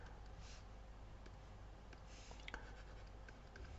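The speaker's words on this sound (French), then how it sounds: "Bon, je l'écris avec des petits U comme à l'accoutumée" Pen scratching on paper as someone writes out small lettered terms for a sequence problem, a faint continuous scribble with a few light taps, close and quiet, no talking.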